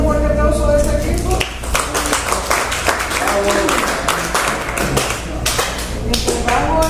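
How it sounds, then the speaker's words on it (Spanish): An audience claps for a team at a Spanish-language presentation on the Pareto principle, giving dense, steady applause with sharp individual claps throughout over a low hum and faint background voices. "Démosle un fuerte aplauso a este equipo."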